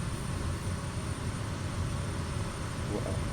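Small propeller aircraft flying through Andes canyons in Peru drones steadily, its engine a constant loud rumble with a broad hiss and no breaks.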